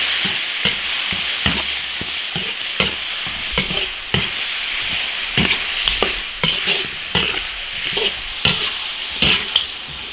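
Free-range chicken with dried chilies, Sichuan pepper and chili paste stir-fries loudly in an iron wok, a continuous close sizzle punctuated by frequent scraping clatters of the spatula against the metal, with no voices.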